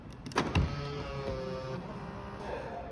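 A 2023 Range Rover Sport's power window motor whirs softly and steadily after a couple of sharp clicks at the start, close and quiet with no talk.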